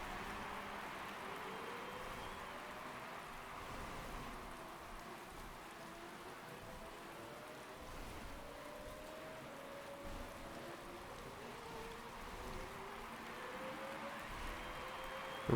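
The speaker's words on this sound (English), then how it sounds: "The rain is going to lighten up." Steady rain falling during a race in the Motorsport Manager game at Sydney, a continuous, even hiss of rain on surfaces, moderately quiet and uninterrupted, with no voices.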